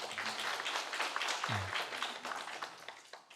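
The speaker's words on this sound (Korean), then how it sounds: "우리 어린 친구들 위해서 박수 한번 보내죠" Congregation in a church clapping for the children at a Children's Day service, a dense patter of hand claps running steadily throughout, with a brief low murmur partway through.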